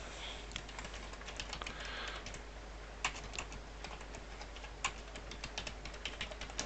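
Quick bursts of keystrokes on a computer keyboard while entering a backup description, soft irregular clicks with a few sharper taps, close and quiet against a faint hum.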